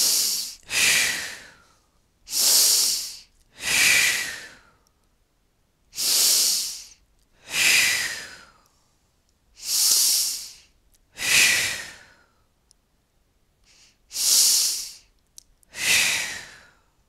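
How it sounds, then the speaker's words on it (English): Slow deep breathing, in through the nose and out through the mouth, about eight breathy cycles spaced evenly with quiet gaps between, close and unaccompanied by speech. "taking 5 big breaths in the nose and out the mouth"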